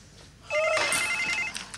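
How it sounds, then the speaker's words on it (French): A telephone bell rings indoors in one loud, sustained trilling burst lasting about a second, heard alone without talk. "Ah non, pas le téléphone, non."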